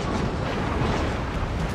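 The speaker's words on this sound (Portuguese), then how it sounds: "Eu tô pegando fogo aqui" Battleship IV Wyoming burning in World of Warships on the Strait map, a steady dense roar and crackle of fire with low rumbling, continuous and loud throughout, no talk.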